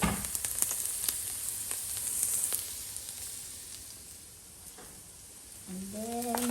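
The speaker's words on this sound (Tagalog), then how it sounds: "Igisa natin yung ating garlic." Garlic sautéing in hot cooking oil for a Filipino vegetable and egg guisado, a steady close sizzle with scattered crackles and pops throughout, and a brief voice rising near the end.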